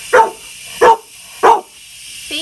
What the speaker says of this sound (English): This is not a good dog.